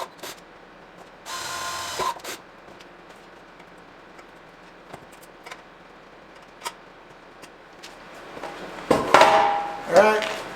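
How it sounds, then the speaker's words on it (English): A drill bores holes for a hinge on the bed of a 1985 Jeep CJ7, with one short burst early and a louder, longer run near the end, separated by quiet handling clicks. "I'm going to go ahead and pop those holes in there and then screw it on."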